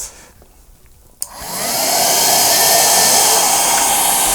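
A click, then a compact Michelin car vacuum cleaner motor spins up into a loud, steady high-pitched whine that holds to the end.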